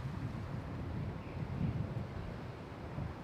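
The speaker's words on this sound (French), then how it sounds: "Voilà, on est vent de face." Steady headwind buffets the microphone with low rumbling gusts on a par-3 hole near water at the Ilbarritz golf course, a continuous blustery roar with no voices.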